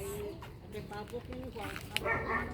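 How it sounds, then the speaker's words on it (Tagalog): Several chickens cluck and squawk close by, with people talking over them in a busy outdoor setting. "Maraming manok."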